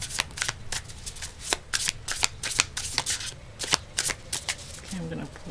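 Tarot cards are shuffled by hand in a series of sharp, crisp riffling bursts at an irregular rhythm, close up and fairly quiet, with a brief low voice near the end.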